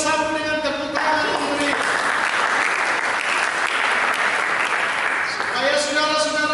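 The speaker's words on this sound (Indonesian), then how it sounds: "Coba mari kita sambut dengan tepuk tangan." A church congregation at a Sunday service breaks into sustained, dense applause, loud and steady throughout, with many hands clapping together and faint voices and tonal sounds at the start and end.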